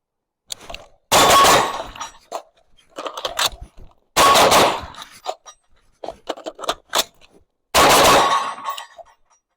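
A Daniel Defense rifle fires on a shooting range: three loud, sharp report clusters spaced a few seconds apart, each a quick burst of shots, with quieter handling clicks and clatter in between.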